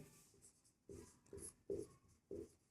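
Pen writing out the solution to a Class 10 maths quadratic-equation problem, a few short scratchy strokes in bursts separated by brief pauses, close and quiet, with no talking.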